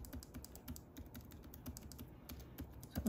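Keys on a 2012-2016 Apple Retina MacBook Pro keyboard, one freshly replaced, clatter in a quick irregular run of light, close typing clicks with no voices.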